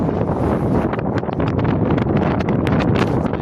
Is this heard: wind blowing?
yes